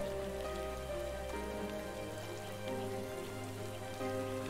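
Rain falls in the video game Starbound as a steady, hushed patter over a soft layered game music background, fairly quiet and constant throughout.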